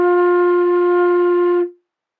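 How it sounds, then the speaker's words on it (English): A flute plays a single sustained F, a steady, pure, breathy-free tone held close and clearly for under two seconds before stopping cleanly, with no talk. "So the first note we're going to play on the flute is an F,"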